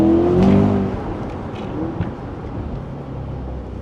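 A Corvette Stingray in Z mode gives a loud opening engine roar that eases into a steady, lower idle rumble nearby, with a faint tonal whine mixed in.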